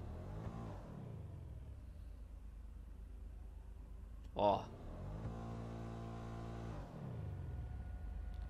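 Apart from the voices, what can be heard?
car cooling fan running in GTA 5 video game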